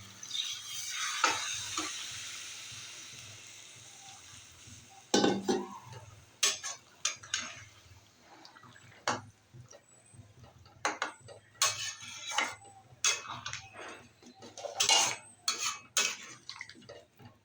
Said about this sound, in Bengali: মশলার সাথে মাশরুম আর পনিরটা একটু নেড়ে নিচ্ছি বন্ধুরা